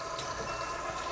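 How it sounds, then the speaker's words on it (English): Recirculated water trickling into the drain boxes of a spin rinse dryer, a steady close hiss and splash of flowing water with a low machine hum underneath, no voices. "so you have a little bit of recirc water that's trickling in"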